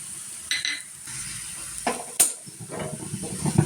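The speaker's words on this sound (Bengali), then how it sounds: "আমি এখন ধনে পাতাটা ভালো করে ভেজে নিচ্ছি" Coriander leaves fry in a pan, giving a soft sizzle broken by a few sharp clinks and scrapes of a utensil against the cookware, with no talking.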